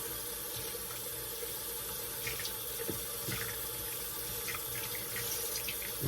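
A shaving brush is rinsed under a running tap, a steady close splash and gush of water into the sink that continues throughout with small irregular splashes.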